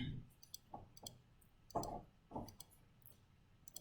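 Sharp plastic clicks of calculator keys being pressed, several quick taps in irregular bursts, close and fairly quiet.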